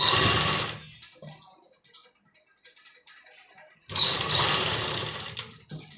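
Sewing machine stitching folded piping strip onto a baby suit, a close rapid whirring chatter in two bursts separated by a quiet pause of fabric handling.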